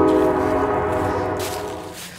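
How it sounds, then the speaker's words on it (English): A passing train near a hillside building lot, with a steady horn-like tonal drone and rumble that stays loud and gradually fades over a couple of seconds, with no talk. "The train."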